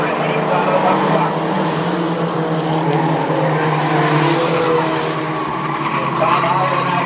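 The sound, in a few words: race trucks racing around Star Speedway track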